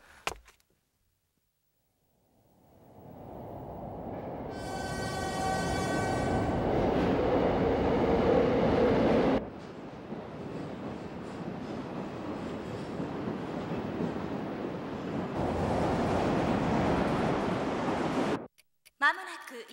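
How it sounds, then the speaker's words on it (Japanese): A commuter train arrives at a Japanese station platform, first approaching with rising rumble and a high wheel squeal, then rolling past loudly and steadily before cutting off abruptly, with no talk over it. "まもなく1番線に上り電車が参ります。"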